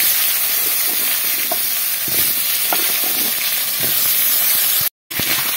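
Potato pieces frying in oil for a Bengali-style fish roe recipe, a steady loud close sizzle with a few soft stirring knocks, briefly cut off near the end.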